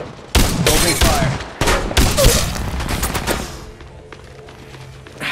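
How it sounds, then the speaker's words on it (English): Rapid automatic gunfire in the mobile shooter Apex Legends Mobile, two dense close bursts of rattling shots that trail off into quieter noise. "Opening fire."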